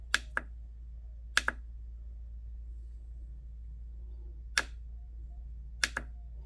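Boat trim tab solenoid clicking sharply in quiet surroundings, a few isolated double clicks spaced several seconds apart over a low steady hum.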